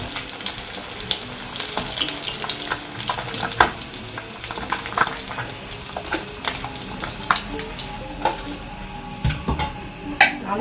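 Fish sizzles and spits steadily in a hot pan in a village home kitchen, with scattered crackles, pops and occasional clinks close by.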